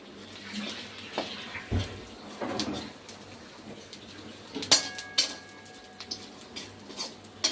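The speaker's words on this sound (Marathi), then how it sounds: "डिंक कसा फुटतोय गाईस बघू शकता तुम्ही." Edible gum (dink) fries in a pan for nachni laddoos, crackling and popping in scattered bursts amid a soft sizzle, with occasional metallic clinks of a utensil against the pan.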